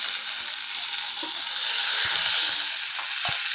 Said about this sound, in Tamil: இப்போ கடுகு போட்டு உளுந்தம்பருப்பு